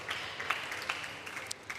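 A home crowd at a table tennis match in a packed stadium applauds, scattered claps that are light and fairly distant and continue through the moment, with no talk.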